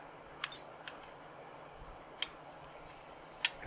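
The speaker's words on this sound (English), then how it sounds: "I do like kind of trimming things off as I go along," Small cutters snip the leads of components on a Dynaco ST70 tube amp driver board, a few sparse sharp clicks close by over a quiet hiss.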